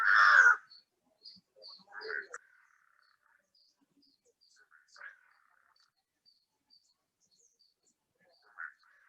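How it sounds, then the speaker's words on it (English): Crow cawing outdoors: one loud harsh caw at the start, then a few fainter scattered calls at intervals across the quiet. "The crow wants to talk."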